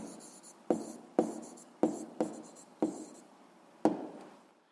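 Pen or chalk strikes a surface in several sharp taps and short strokes while writing an answer in a physics exercise, distinct separate hits with quiet gaps between.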